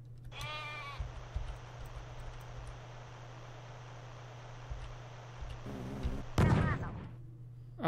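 A cartoonish bleating from the sheep weapon in the Wormix game, one wavering bleat early and another louder one near the end, over a steady background hum.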